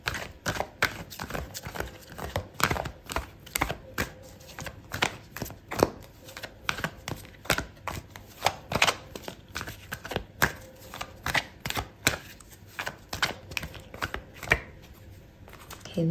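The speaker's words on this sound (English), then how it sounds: "Okay, so I'm going to pull out another card for you." Tarot cards being shuffled and drawn for a love reading, a steady run of crisp riffling snaps and soft slaps repeating close by for the whole stretch, with no talking.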